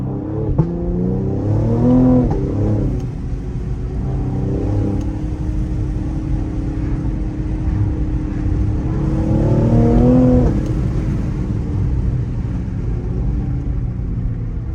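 A Cadillac CT5-V engine revs up twice as it accelerates, rising in pitch then settling into a steady loud drone, with no talking.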